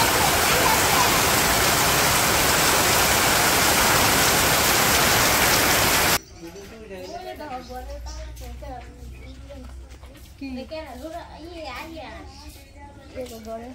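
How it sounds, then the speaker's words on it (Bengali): Heavy rain pours on a rainy day in Bangladesh as a loud, steady, dense hiss for about six seconds, then cuts off, leaving voices talking over a much quieter background. "অনেক সুন্দর বৃষ্টি হইতেছে।"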